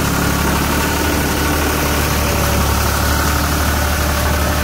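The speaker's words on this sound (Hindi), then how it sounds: "ट्रैक्टर कैसा दम दिखा रहा है" A heavy tractor engine runs loud and steady close by, a constant low rumble with a rough, throbbing vibration and no voices.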